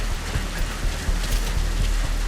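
Rain falling at Mother Base in Metal Gear Solid V: The Phantom Pain, a dense steady hiss with scattered soft patters on surfaces, fairly loud and continuous without any talk.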